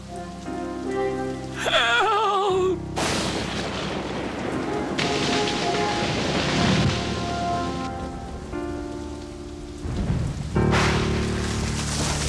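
Heavy rain storm pours steadily throughout a stage production of Beauty and the Beast, with rumbling surges and gusts. A man cries out briefly near the start over the downpour.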